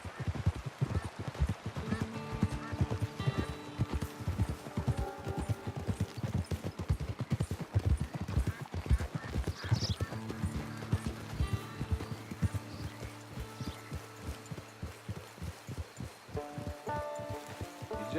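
Horse hooves clip-clop in a steady rhythm throughout a Red Dead Online game scene, with occasional neighing and rustling ground sounds, while faint voices come and go underneath.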